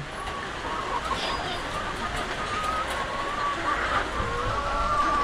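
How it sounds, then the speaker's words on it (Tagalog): Chickens cluck and chatter through a steady noisy outdoor background, with faint voices mixed in. "Ayan mga manok ko."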